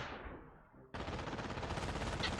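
Machine gun fire in a Company of Heroes mod battle, a faint fading burst giving way abruptly to a loud, close, sustained stream of rapid rattling shots.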